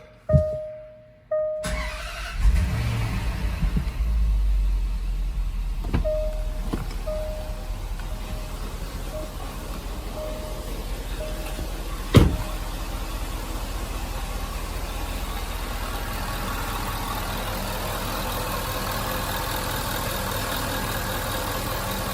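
A 2013 Range Rover L405 supercharged engine, after a timing chain replacement, cranks and catches, revs briefly, then settles into a steady rumbling idle, with a few clicks and one sharp knock along the way.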